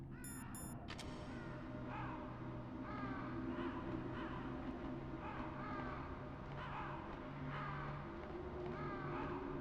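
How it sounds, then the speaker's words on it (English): Crows caw in repeated bursts through a Metal Gear Solid (PS1) game scene, each call fairly loud against a steady low ambient drone, with no talking. "Why are there crows and shit down here?"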